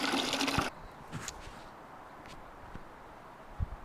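Water sloshes inside a DIY gravity-fed chicken waterer, with a loud splashy burst at the start, then fading to faint trickles and a few soft knocks.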